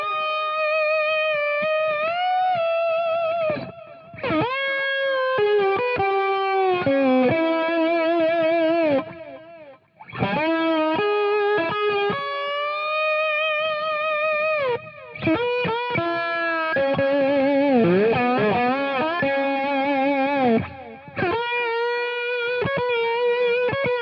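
Distorted electric guitar lead played through a Boss Power Stack combined with a J-Rocket Archer overdrive pedal, with sustained bent notes and fast melodic runs ringing with effects and slight reverb, continuous and loud.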